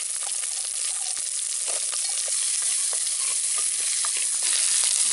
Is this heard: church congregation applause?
no